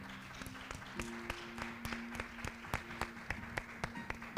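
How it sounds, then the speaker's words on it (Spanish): A church congregation claps along in a steady, rhythmic beat, sharp regular hand claps over a sustained low musical tone, fairly faint and distant. "¿Por qué no le das fuerte el aplauso al Rey?"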